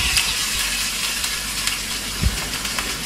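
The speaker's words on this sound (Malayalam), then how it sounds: "ചെറുതായി അരിഞ്ഞ ഉള്ളിയിട്ട് നന്നായി വഴറ്റാനും, നന്നായി വഴറ്റണം" Chopped onions and curry leaves frying in coconut oil in a pan, a steady close sizzle with occasional stirring scrapes and a soft bump.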